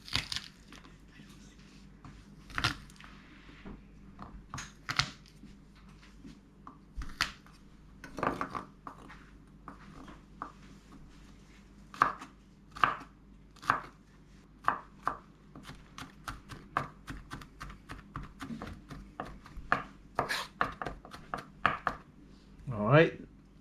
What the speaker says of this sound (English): Let's cut it. 4 cloves of garlic. Just want to mince it.